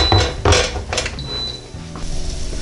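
The lid of an Emeril Lagasse pressure air fryer is lifted off with a couple of clanking metallic knocks followed by a soft scrape and a faint fan hum.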